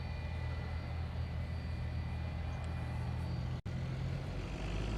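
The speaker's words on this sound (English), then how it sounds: "So that's 757 there. It was coming a long distance from Maui." A Boeing 757 airliner arriving from Maui at Honolulu airport, a steady broadband jet roar holding constant throughout, with a brief dropout near the end.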